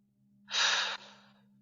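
A single audible breath drawn during a yoga flow, close and soft, rising quickly and then tapering off over a faint low electrical hum.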